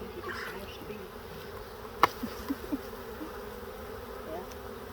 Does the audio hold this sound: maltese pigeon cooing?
no